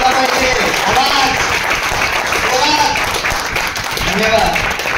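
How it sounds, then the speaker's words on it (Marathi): An audience at a training session in a hotel hall claps loudly and continuously, with voices speaking over the applause. "चला टाळ्या वाजवा तुम्हाला. जास्तीत जास्त आवाज आला पाहिजे, आवाज."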